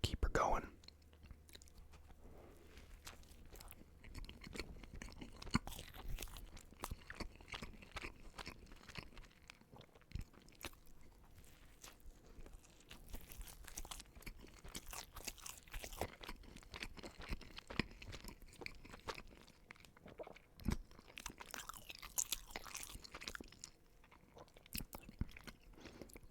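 Quiet close-up chewing and soft bites of a cheesy Wendy's double cheeseburger, with moist mouth sounds continuing throughout and occasional faint whispering.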